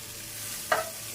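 Stuffed bitter gourd being turned and roasted in a pan over a gas flame: a soft, steady sizzle with one brief scraping stir of the spatula, faint and without voices.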